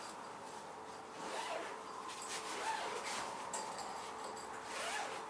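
Zipper on a fishing tent being drawn open, several short rasping pulls with brief pauses between them, close and fairly quiet over a faint background.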